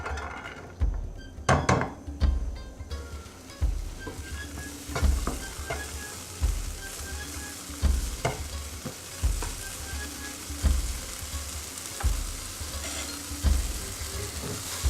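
Grated carrot halwa sizzles in a hot, lightly oiled pan while a spoon scrapes and stirs it, giving a steady frying hiss punctuated by regular knocks of the utensil against the pan about every second.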